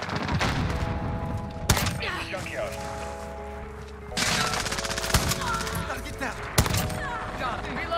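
Rapid bursts of automatic gunfire from an AMR rifle in Modern Warfare, dense and close, with sharp louder shots punctuating the stream, mixed with game effects and someone talking over it.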